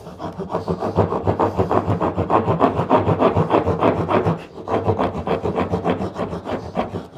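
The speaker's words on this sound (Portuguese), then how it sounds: "Aqui é só passar a grossa, manter ela posicionada do lado reto, no sentido do chanfro, e acertar." A wood rasp cuts a chamfer on a wooden drawer pull in a woodworking shop, making loud, close, rhythmic rasping strokes in a quick steady series, with one brief pause midway.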